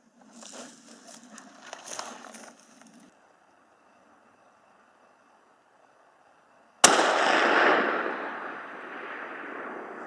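A single precision rifle shot aimed at a distant target outdoors in windy badlands, a sudden loud crack with a long rolling decay, following a few seconds of faint handling noise and a quiet pause.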